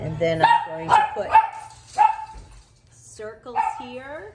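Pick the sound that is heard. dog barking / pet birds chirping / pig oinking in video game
dog barking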